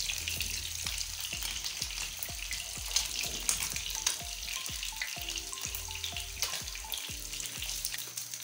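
Fish pieces fry in hot oil with a dense, crackling sizzle, joined by repeated light clicks and taps of a utensil against the pan, close and steady, with no speech.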